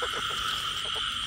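Frogs croak from a basket after heavy rain, a dense, continuous chorus of rapid calls, close and fairly loud, with no voices.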